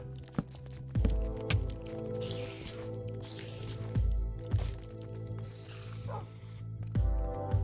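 Tamed dogs in Minecraft fight spiders in a cave. Sharp short barks and wet squishy hits land every second or so over a steady musical drone.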